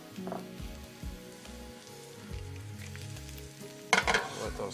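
Mushrooms fry and brown in oil in a pan with a steady, close sizzle, then a louder burst of crackling near the end.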